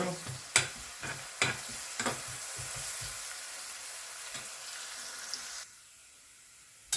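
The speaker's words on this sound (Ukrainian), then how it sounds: "на сковорідку дала олії трішки і обсмажую зараз цибульку" Oil sizzles steadily in a frying pan as onions fry golden, with a few sharp clinks and scrapes of a utensil stirring near the start, then quieter sizzling.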